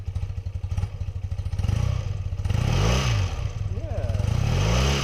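A BMW R80 motorcycle engine idles with a close, loud throb, then is revved twice in rising surges before settling back to a lumpy idle.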